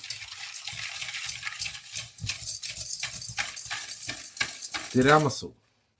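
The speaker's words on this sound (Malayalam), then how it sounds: "നാല് മുട്ടയുടെ മഞ്ഞ മാത്രം ഓക്കെ പിന്നെ അതിട്ട് ഒരു ടു ബൈ തേർഡ് കപ്പ് പഞ്ചസാര അങ്ങനെ നന്നായിട്ടൊന്ന് ബീറ്റ് ചെയ്തെടുക്കാതെ" Four egg yolks being beaten with sugar for tiramisu, the whisk or beater making a steady rhythmic stirring and clattering against the bowl, ending in a brief louder burst.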